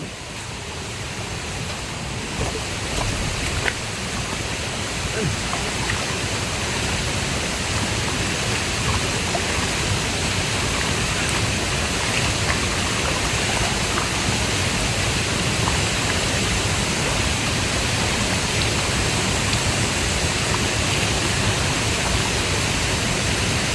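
Fresh mountain stream water flowing in a steady, dense rush, loud and close, a continuous broadband splash that holds without pause and has no voices over it.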